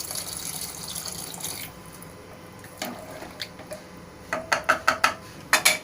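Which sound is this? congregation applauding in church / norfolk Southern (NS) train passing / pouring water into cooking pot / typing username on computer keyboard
pouring water into cooking pot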